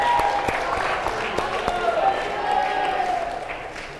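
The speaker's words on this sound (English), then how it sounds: "Give them a big round of applause." Audience applause at a university History Department's Histopardy trivia event, a dense steady wash of clapping from a room of people that holds throughout and tapers slightly at the end, with faint voices mixed in.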